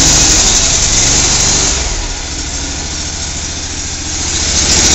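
A riding lawn mower with hydrostatic drive runs from a cold start with choke and raised throttle, its engine rumbling loudly and close, dipping slightly mid-clip before rising again, with no voice over it.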